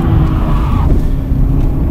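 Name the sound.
sports car engine during drift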